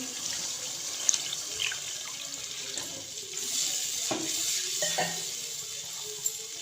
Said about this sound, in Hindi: इसके अंदर 2 गिलास पानी का डाल दूँगी